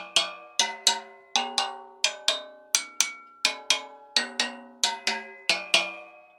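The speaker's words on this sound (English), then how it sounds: "they'll take those hoops off and put them on a cymbal stand, and they make a chime-like sound" Rototom hoops hung on a cymbal stand and struck like chimes, giving a string of bright, ringing metallic hits in a loose rhythm, each one decaying quickly, close and clear with no talk.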